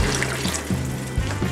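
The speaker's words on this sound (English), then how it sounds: "And I'm gonna add more water." Water poured from a container into a cooking pot of boiling beef soup, a loud close splashing trickle in short repeated surges.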